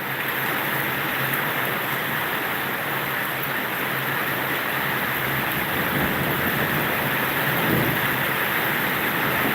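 A sudden heavy downpour roars steadily as a dense hiss of rain, with low rumbles of thunder rolling beneath it throughout; no one speaks.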